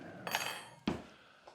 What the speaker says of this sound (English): Silverware.